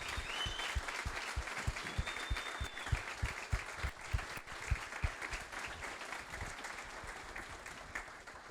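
A corporate gathering's audience applauds steadily, dense crowd clapping heard from a moderate distance, fairly faint, with a few sharper individual claps and no talk over it.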